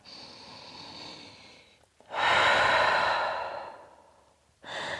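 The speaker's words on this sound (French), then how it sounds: "Immense respiration dans votre chien tête en bas." Someone breathes deeply while holding a downward dog yoga pose: a long soft exhale, a pause, then a loud, full breath, followed by the start of another, with no talking.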